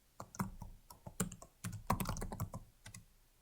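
A computer keyboard clatters as a command is typed, with quick irregular keystrokes, a few louder taps, and a brief pause midway, close and fairly quiet, with no voices.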